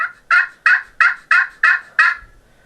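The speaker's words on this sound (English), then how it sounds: "So those are just yelps." Six evenly spaced yelps from a turkey pot call, sharp and close, in a steady rhythm with quiet gaps between.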